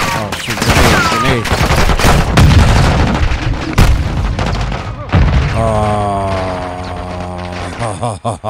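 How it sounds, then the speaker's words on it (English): A grenade blows up amid a chaotic Modern Warfare 2 prison-break firefight in Mexico, with loud bursts and booms over rattling gunfire and shouting voices before the noise thins out. "Grenade."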